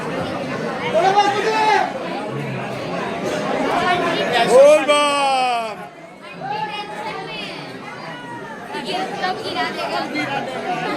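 Dense crowd chatter from pilgrims queuing at Bhimashankar temple, a steady babble of many overlapping voices, close and continuous, with one nearer voice rising above the hubbub midway before it dips and swells again.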